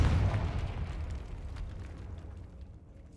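A Confringo explosion spell from the video game Hogwarts Legacy bursts with a loud boom at the very start, then fades into a rumbling, crackling decay over a few seconds, with no voices.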